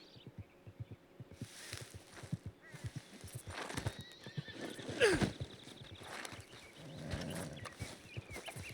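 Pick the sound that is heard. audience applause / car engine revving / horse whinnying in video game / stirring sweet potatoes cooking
horse whinnying in video game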